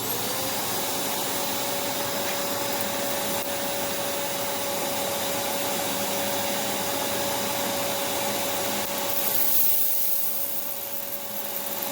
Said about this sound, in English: Going to be using the unit at its maximum airflow and suction capability settings.